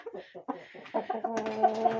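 A young rooster, newly arrived as a gift, clucks in several short close bursts, then gives a brief, tonal, crow-like call.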